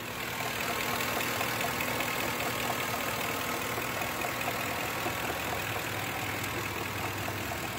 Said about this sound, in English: we'll start up here with the engine, and I'll have you have a little listen here